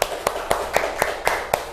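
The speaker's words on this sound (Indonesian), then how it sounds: "beri tepuk tangan buat kelompok 4" A small class audience gives brief applause after a group presentation, with about seven regularly spaced, fairly sharp claps, close and moderately loud.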